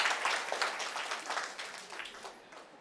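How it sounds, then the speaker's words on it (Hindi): Fairly faint audience applause at a Buddhist vihara gathering, a soft patter of clapping from a crowd that gradually fades toward the end. "जोरदार दोनों के लिए तालियां।"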